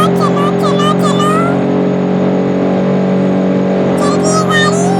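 A car engine drones steadily with a sustained, revving hum in the racing video game Drive Zone Online, with a voice talking over the start and end.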